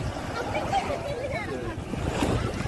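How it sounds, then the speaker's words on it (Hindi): Sea waves washing in at Girgaum Chowpatty beach in Mumbai make a steady, broad wash of surf. Wind buffets the microphone, and people talk faintly underneath. "पानी के आप देख सकते हैं कितनी वेव्स आ रही है"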